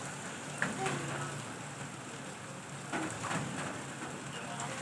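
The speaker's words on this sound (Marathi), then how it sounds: "पाऊस सुंदर लागतोय बाहेर." Monsoon rain falls steadily outside, a soft continuous hiss of drops on surfaces, fairly faint and even throughout with a couple of small knocks.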